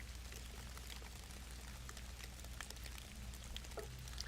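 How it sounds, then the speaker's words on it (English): Blue-colored water poured onto chia seeds in dirt, a continuous soft splashing trickle with small patters, quiet and close, without talk. "So now we've got blue water that we're going to pour onto these chia seeds in their dirt environment."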